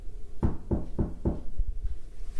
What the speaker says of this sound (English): If I knock on here, are you able to copy me?